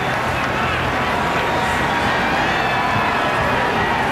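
A huge Kentucky Derby crowd of over 155,000 fills a racetrack with a broad, constant roar of hubbub. The sound is loud, dense and distant.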